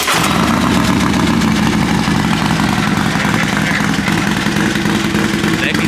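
A 2022 Harley-Davidson Road Glide Special idles close by with a loud, continuous, throbbing rumble that holds steady throughout.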